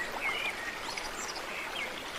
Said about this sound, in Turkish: Bu sene çok yağmur yağdığı için sel sularından dolayı boz bulanık akıyor